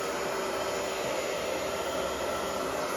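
A hairdryer blows continuously at close range, a steady loud whooshing hum with no breaks and no voices.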